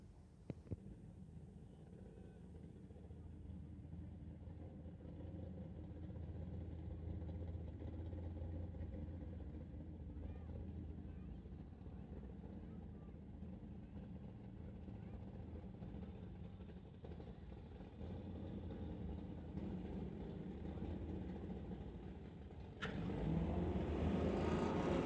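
Firebird and Camaro drag racing at a street-legal drag night, engines rumbling steadily as the cars stage and run, with a sharp louder burst of engine noise near the end.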